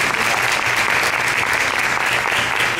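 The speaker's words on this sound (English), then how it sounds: "Let's give all of them a round of applause." A crowd at a candidates forum held at a high school applauds, a sustained, even wash of many hands clapping at full strength with no break.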